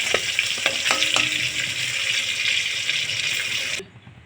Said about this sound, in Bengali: মাছগুলো লাল লাল করে ভাজা হয়ে গিয়েছে, দেখতে পাচ্ছ।